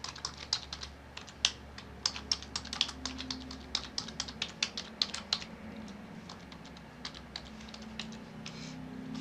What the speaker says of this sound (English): I'm going to go ahead and type Juliet's record.